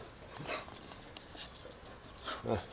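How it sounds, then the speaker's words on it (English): Dogs on a patio pant and give a few soft whimpers, fairly faint against low outdoor background noise. "Don't mind my dogs."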